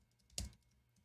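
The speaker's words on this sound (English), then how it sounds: "If my keyboard decides to work." A single short burst of typing on a computer keyboard, a quick cluster of key clicks at close range, fairly quiet against a low background hum.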